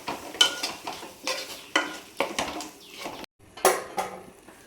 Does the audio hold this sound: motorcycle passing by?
no